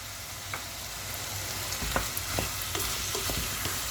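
Peas fry in a pan under a steady hiss of sizzling, with occasional soft scrapes and taps as they are stirred, close up and without voices.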